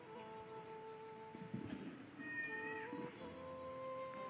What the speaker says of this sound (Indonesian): Kucing oyen,